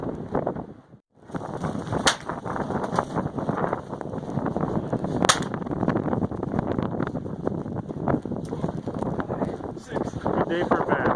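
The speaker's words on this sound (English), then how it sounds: "So we're gonna keep shooting." Rifle shots ring out at an outdoor marksmen's shooting match during a January snowstorm, two sharp cracks standing out over steady roaring wind noise, with faint voices present.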